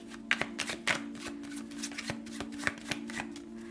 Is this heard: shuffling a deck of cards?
yes